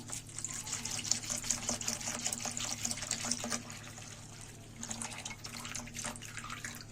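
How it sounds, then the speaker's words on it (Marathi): Water swishes and trickles as lentils for sambar are rinsed by hand, with splashy bursts that pause briefly and then resume. "ही डाळ जी आहे आपण दोन ते तीन पाण्याने स्वच्छ धुवून घेऊया"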